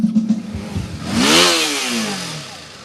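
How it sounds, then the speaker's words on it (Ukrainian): Motorcycles revving at a crowded motorcycle rally in a city square in Rivne, one loud engine surging up in pitch and falling away over a couple of seconds, close and prominent with no talk. "Майдан Незалежності вщен заповнений мотоциклістами"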